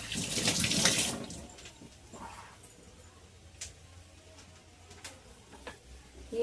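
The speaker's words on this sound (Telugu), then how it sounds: "నేను హ్యాండ్ వాష్ చేసేసుకుంటాను." Tap water runs into a kitchen sink while hands are washed, a brief splashing burst at first, then quieter trickles and small clinks, fairly close.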